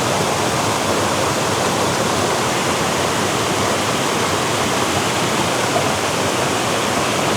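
The main cascade of a waterfall rushes in a dense, unbroken roar of falling water, loud and close, with a steady broadband hiss and no voices.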